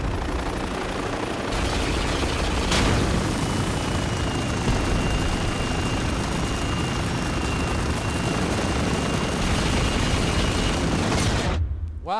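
A helicopter in an aerial chase in the video game Spec Ops: The Line gives a loud, steady rotor drone throughout, with a few faint bursts mixed in, before it cuts off abruptly at the end.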